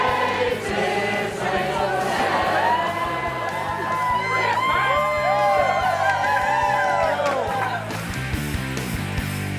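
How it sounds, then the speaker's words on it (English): A theatre festival audience cheers and whoops loudly, with high rising and falling shouts over a dense, continuous crowd roar lasting the whole stretch. "with clapping, cheering and whooping."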